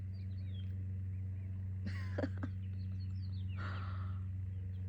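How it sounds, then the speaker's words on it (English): Birds chirp outdoors in a few faint, distant bursts of short whistles over a steady low hum, with a couple of brief closer noises in between. "I sat down to record this and the birds were going nuts"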